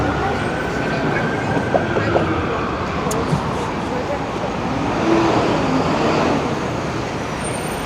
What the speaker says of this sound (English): As we get to Adelaide Street, there's another 501 Queen streetcar